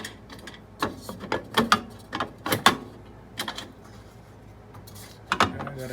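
The fence on a WEN 6559 jointer is loosened and shifted, giving a quiet series of sharp metallic clicks and clunks in irregular bursts, with brief pauses between them.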